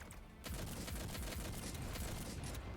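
Rapid gunfire in the Girls Frontline game, Slow Shock chapter 14, with the IWS rifle blasting enemies: a dense, loud run of shots that keeps going without a break after a short quiet start.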